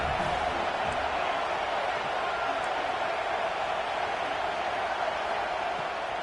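Simulated stadium crowd in the College Football 26 video game, a steady broadband roar that holds constant throughout, with faint muffled thuds.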